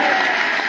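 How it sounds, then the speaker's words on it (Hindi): Loud, dense applause from a large crowd at a political rally, a continuous close wash of clapping with no breaks. "तो एक बार मंगरूप के लिए ताली बजा दी"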